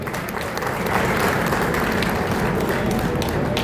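A crowd gives loud, sustained applause for newly promoted police officers at an official gathering, dense clapping swelling slightly and continuing steadily to the end.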